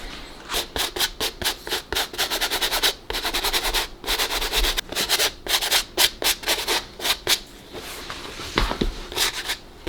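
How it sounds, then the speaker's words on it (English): Brush rubbed briskly over fabric to clear excess wax buildup while finishing a removable coat hood, a series of close, rhythmic scratchy strokes in bursts with short pauses. "Doing some last minute brushing to see if I can get the excess buildup of wax."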